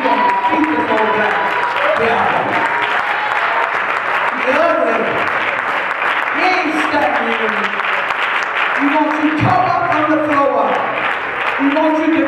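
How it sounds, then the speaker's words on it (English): A church congregation claps hands at a watch night service, a steady, dense wash of applause that runs the whole way through while voices shout and sing loudly over it. "Come on and clap your hands."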